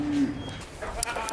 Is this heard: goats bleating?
yes